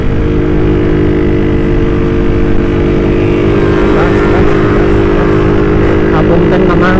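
A Satria FU motorcycle roars loud and close as it accelerates to overtake on the Cisinga road during a Sunday morning ride, the engine note climbing steadily under heavy wind rush.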